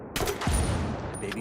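Turret gunfire in the video game Ghost Recon Wildlands, a dense burst of rapid shots with a heavy low thump near the start, followed by continued rattling fire and background game noise.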